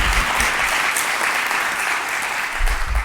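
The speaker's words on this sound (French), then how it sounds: "on peut vous applaudir pour vous encourager" A full auditorium audience applauds steadily as a speaker heads to the lectern at an evening awards event, the dense clapping filling all three seconds at even strength.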